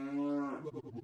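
A cow moos in the Majora's Mask randomizer video game, a single loud, drawn-out low bellow that breaks into rougher, wavering grunts toward the end, heard alone.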